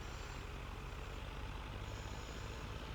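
Tractor engine from the farming video game Farming Simulator 17, a steady heavy low rumble droning evenly throughout with no breaks.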